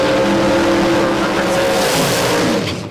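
A drag racing car from a Queensland drag racing championship goes by loudly after easing off the throttle at about 172 mph, a steady roaring engine drone that fades slightly at the end.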